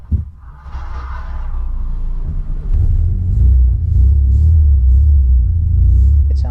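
A SEAT 132 car engine idles just after starting, a low steady rumble and throb building in the first moments and then holding close and loud.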